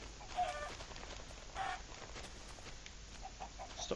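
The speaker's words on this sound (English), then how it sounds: "Chicken!" A Minecraft chicken clucks in short, quiet bursts, two distinct clucks spaced apart over faint background noise, with no talking.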